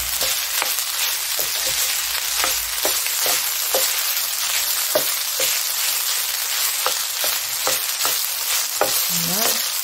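Pink shrimp frying with rice in a pan for easy shrimp fried rice, a steady close sizzle with frequent stirring scrapes and clicks throughout, no talking.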